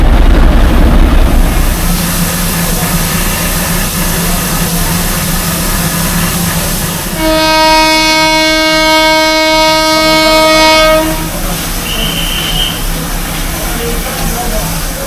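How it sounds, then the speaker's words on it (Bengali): A Darjeeling toy train sounds a long steady whistle or horn for about four seconds, loud over constant rumbling engine and track noise, with a brief higher toot afterward. "এই দুটো ডিজেল আর এটা হচ্ছে স্টিম।"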